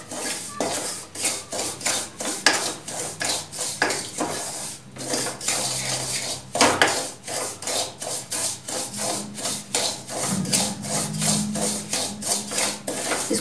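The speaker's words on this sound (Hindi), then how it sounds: "इसको लगातार चलाते रहेंगे क्योंकि नीचे बहुत जल्दी चिपक जाता है कोई भी हलवा हो" A spoon scrapes and rubs rhythmically around a pan as moong dal halwa is stirred in ghee, producing repeated close scraping strokes with occasional metallic clinks.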